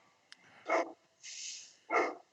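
A dog barks and yips in a few short, close bursts, with soft whining vocal sounds between them and a quiet background.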